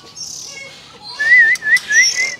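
Oriental magpie-robin chicks, part of a hand-raised brood, give loud close whistled calls, a few rising chirps bunched near the end over a faint hiss.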